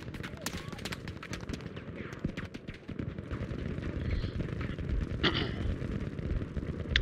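Rapid machine gun fire crackles in dense, loud bursts throughout a Battlefield V war scene, mixed with distant blasts, with a voice occasionally heard beneath.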